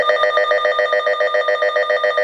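A weather radio's siren set to high: a loud, steady electronic alarm tone pulsing rapidly and evenly throughout, harsh and piercing with a warbling rhythm.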